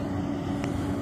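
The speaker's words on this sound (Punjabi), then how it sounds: "ਅਤੇ ਟਰੈਕਟਰ ਦੀ ਆਵਾਜ਼ ਤੁਸੀਂ ਸੁਣ ਸਕਦੇ ਹਾਂ ਵੀ ਬਿਲਕੁਲ ਘੱਟ ਆ ਰਹੀ ਹੈ" A John Deere 52 tractor hitched to a straw-making machine runs with a low, steady, subdued engine hum, a smooth continuous drone without voices.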